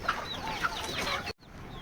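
Hens clucking in short bursts at feeding time with a busy farmyard bustle around them, fairly close, cutting out briefly near the end before resuming quietly.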